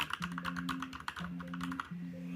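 A computer keyboard clatters with fast, irregular keystrokes, close and fairly quiet, while faint tonal background sound runs underneath.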